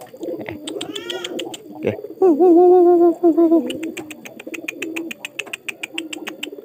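A racing pigeon, three days after its eggs were removed, gives a loud, close, throaty coo amid rapid clicking sounds and softer background cooing, with a brief spoken word.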